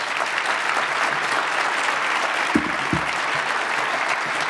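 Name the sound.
audience round of applause for speakers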